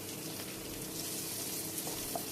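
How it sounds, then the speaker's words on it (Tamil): Steady frying and sizzling of onions in a pan, a continuous soft crackle heard up close with no talking. "இப்போ நறுக்கி வச்சுருக்க வெங்காயத்தை போட்டு நல்லா வதக்கணும்."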